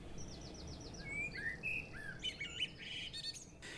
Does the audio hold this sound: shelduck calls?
yes